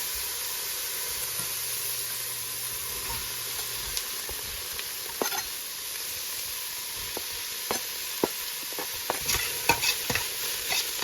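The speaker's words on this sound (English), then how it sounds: "I'm going to stir with my spoon." A spoon stirs bread soup cooking in a pan, with a steady sizzle under scattered scraping and clinking that thickens toward the end, close and continuous with no voices.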